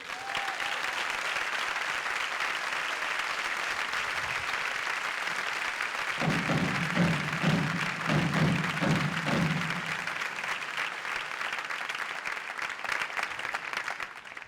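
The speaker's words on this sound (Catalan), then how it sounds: "la plaça us dedica aquest fort aplaudiment" A crowd in a town square applauds steadily throughout a Ball de Diables performance in Vilafranca, with a stretch of rhythmic low thumps joining in partway through.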